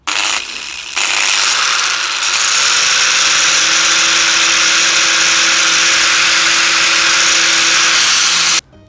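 A loud, close angle grinder powered from a portable power station whines at a steady high pitch, briefly dipping at the start, then running continuously for several seconds before stopping abruptly.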